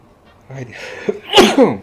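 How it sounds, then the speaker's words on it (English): A single close, forceful sneeze follows a short breathy buildup, with a vocal catch at the end. "Sneezing."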